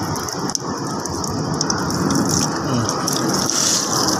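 Pressurized water rushes out of the radiator of a 2024 Ford Fiesta during a coolant change, a loud, continuous hissing gush that holds steady throughout.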